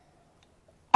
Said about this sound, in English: Sorry, I'm coughing a lot lately.